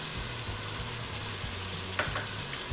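Spices sizzling and sputtering in hot oil for Maharashtrian masale bhat, a steady bright frying hiss with a couple of sharp pops near the end and no voices.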